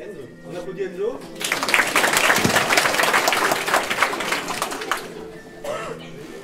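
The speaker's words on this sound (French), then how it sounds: "On applaudit Enzo." An audience claps for a middle-school student after a slam poetry performance at a school arts show, applause swelling to a dense peak, then thinning to scattered claps with a voice briefly audible.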